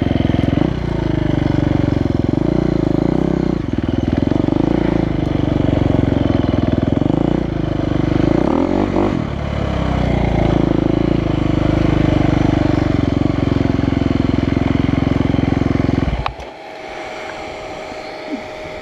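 Husqvarna FE350 and WR300 dirt bikes on hard-pack trails and rutted hills: a loud, close engine drone that rises and falls with throttle for about 16 seconds, then cuts abruptly to quiet ambience.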